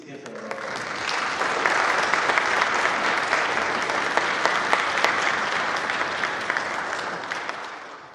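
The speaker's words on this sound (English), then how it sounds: "Let's please give her a round of applause." Sustained audience applause at a university string ensemble's fall concert, dense steady clapping from a sizable crowd that swells and holds evenly, with faint voices underneath.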